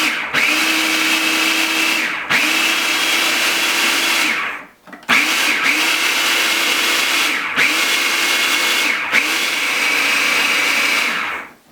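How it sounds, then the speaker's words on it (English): A food processor blends hummus in loud sustained whirring bursts, briefly stopping and restarting in pulses, close and alone with no talk. "have you listen to basically a food processor running"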